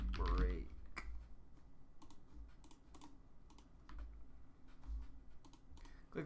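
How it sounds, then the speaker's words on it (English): Rapid clicks and keystrokes on a computer keyboard while configuring code, quiet and close, with irregular bursts of typing and a few sharper button clicks, a voice talking faintly underneath. "Clicking too many buttons."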